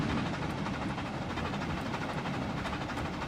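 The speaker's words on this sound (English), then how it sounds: "we need to get this train moving up this hill" Train from Trainz Railroad Simulator 2019 climbing a gradient, a steady dense rumble of engine and rolling wheels holding at an even level throughout, with no voices.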